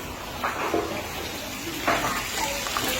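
Water runs steadily from a tap while something is rinsed clean in a kitchen, a continuous close wash with a few splashy clatters on top.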